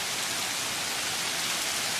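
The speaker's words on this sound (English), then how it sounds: "We're just gonna get some heavy rain." Heavy rain pours down during a tornado-producing storm, a dense, steady hiss of drops striking surfaces all around, with no voices.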